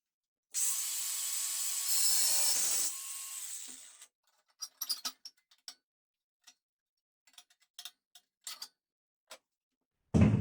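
Cutting a slot for a gate in the metal of an outdoor pellet stove: a loud continuous power-tool whine for about three seconds, then scattered sharp taps and knocks, close up and with no talking.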